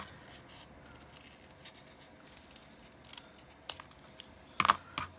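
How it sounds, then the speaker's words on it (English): Scissors cutting craft material for a witch's boot Halloween decoration: a few faint snips close by, ending in a sharper, louder cut against a quiet background hiss. "I'm just going to cut this off where I've made my mark."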